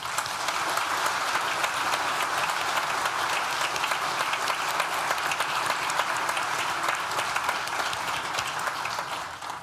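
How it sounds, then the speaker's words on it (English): Sustained applause from a graduation ceremony audience for Nottingham Law School graduates, a dense, even wash of clapping from a large crowd that holds steady for the whole stretch without talk. "Please join me in thanking them with a well-deserved round of applause."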